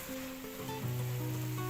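Tomatoes sautéing in a pan for a village-style ground-masala fish curry give a soft, steady sizzle that runs quietly through the short stretch, with no talking over it.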